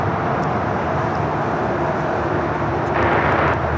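A fixed-wing airliner arriving at LAX on the north side produces a steady, broad jet roar throughout, with a slight swell near the end.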